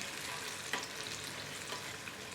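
A spoon stirring boiling milk for palada payasam in a pressure cooker, giving a soft, steady bubbling sizzle with faint scraping strokes, quiet and close with no talk.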